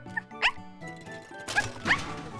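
A puppy gives a few short, high yips and barks in quick bursts, close by, with a faint jingle and a child-like voice mixed in.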